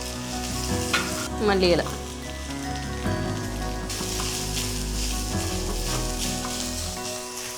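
Green chillies and curry leaves sauté in a pan with a loud, dense sizzle and some stirring scrapes, while a voice briefly speaks over the frying.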